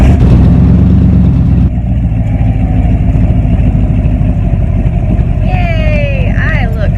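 A car engine runs loudly at a car show, a close rumbling idle that shifts and steps down partway through, with brief higher whines near the end.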